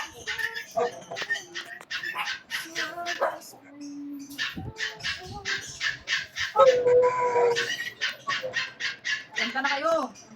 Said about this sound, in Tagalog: Hindi pa yung aso kumakanta.